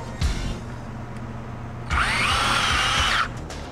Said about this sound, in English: Then you can install your screws.